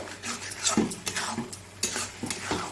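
Boiled taro leaves (kochu shak) stir-fried with spices in a pan: a spoon scrapes and stirs in repeated strokes over a low sizzle, loud and close, with no talking.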